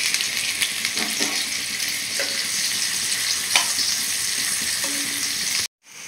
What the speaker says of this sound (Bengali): এখন আমি সবজিগুলো ভেজে নেব।